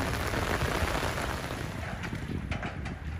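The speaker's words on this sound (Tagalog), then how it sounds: "Nabigla ako sa pagbagsak ng malakas na ulan." Heavy rain pouring down at Dolomite Beach on Manila Bay, a steady dense hiss with wind buffeting the microphone, close and continuous throughout.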